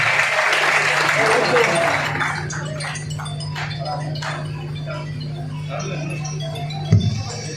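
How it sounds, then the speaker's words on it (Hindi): Audience applause welcoming the chief guest, Anil Rajbhar, at a Suheldev Jayanti community gathering in Ahmedabad: dense clapping for about two seconds, then thinning into scattered claps over a steady hum, with a brief thump near the end. "तालियों के साथ उनका स्वागत करिए।"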